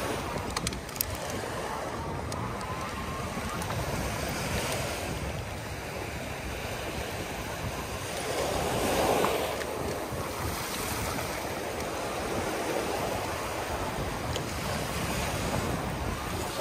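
Ocean surf rolls steadily onto the beach at St. Andrews State Park, a continuous wash of breaking waves mixed with gusting wind noise on the microphone, swelling briefly louder midway.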